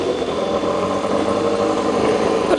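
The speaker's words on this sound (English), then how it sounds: "It is a motorbike down there that's making a noise." A motorbike engine drones steadily in the background at an American classics and hot rod car show, a constant mid-distance rumble with no talk over it.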